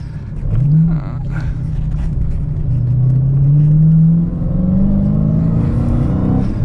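A Dodge Challenger SRT Hellcat with a 6-speed manual gives a loud, deep exhaust rumble from inside while driving. Revs climb steadily through a gear with a rising drone, dip at a shift, then build again, with no talking.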